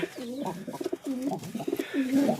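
A Lotan fancy pigeon coos close by in three rolling, throaty phrases, each a low warbling swoop, clear and unaccompanied.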